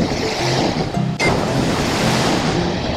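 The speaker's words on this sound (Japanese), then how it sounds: "橋というか、せり出てるところがさ、波に飲まれんだよね、全部。" Rough surf pounds and crashes over a jutting pier on a stormy Shizuoka seashore, a continuous loud roar of breaking waves mixed with heavy wind buffeting the microphone.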